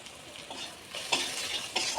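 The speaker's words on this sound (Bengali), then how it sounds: "হিংটা দিয়ে একটু নেড়ে নিই, নাহলে গন্ধ ছাড়বে।" Asafoetida stirred into hot oil for dal, heard as a soft close sizzle with a few quick spatula scrapes across the pan, fairly quiet overall.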